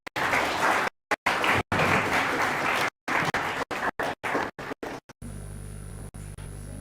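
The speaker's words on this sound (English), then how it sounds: "With a huge round of applause, I'd like to welcome Dr." Audience applause welcoming a presenter to a talk on industry and climate action, a full, steady crowd clapping broken by repeated dropouts, then ending abruptly into quiet hum.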